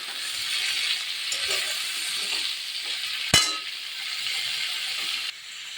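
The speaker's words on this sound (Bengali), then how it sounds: "মশলাটা ভালো করে গন্ধ বেরিয়েছে এবার আমি টমেটোগুলো দিয়ে দিলাম" Tomatoes frying in a spice mix in a pan make a steady, close sizzle with light stirring scrapes and one sharp clink midway, with no talking.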